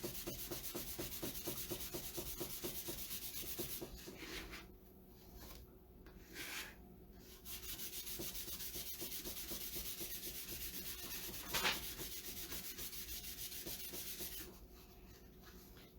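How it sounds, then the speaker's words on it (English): Chalk paste is rubbed onto and off a sign surface in a steady, rhythmic scraping and scrubbing, close and continuous with brief pauses between strokes. "So again, I'm just rubbing in and then rubbing off."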